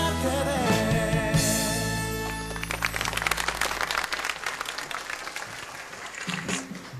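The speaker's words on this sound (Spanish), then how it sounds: "Merecidos aplausos para nuestro grupo de danza" Music with a held chord gives way to a swelling round of audience applause for a dance group, many hands clapping in a dense, uneven patter that carries on to the end.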